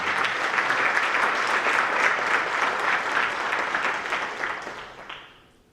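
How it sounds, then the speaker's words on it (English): Sustained applause from an audience at a spring National Honor Society induction ceremony, a dense steady wash of many hands that holds loudly for about five seconds before trailing off at the end. "So please, one round of applause for them."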